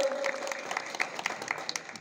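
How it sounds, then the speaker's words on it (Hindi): A rally audience claps to welcome a guest, giving a brief burst of scattered, fairly quiet applause from a crowd. "आदरणीय राजकुमार सिंह यादव जी को भी तालियों से आप लोग स्वागत करें।"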